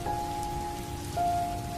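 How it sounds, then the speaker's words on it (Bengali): Heavy rain falls outside at night, a steady dense patter and hiss on surfaces with a faint sustained hum running underneath, continuous and fairly loud. "কিন্তু এমন সময় বাইরে আবার জোর বৃষ্টি শুরু হলো"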